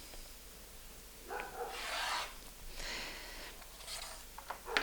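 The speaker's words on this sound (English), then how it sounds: "So I'm going to cut another strip of fabric" Rotary cutter slicing a strip of quilting fabric, heard as a few short bursts of scraping, rasping friction separated by pauses, close and moderate in level with no talking.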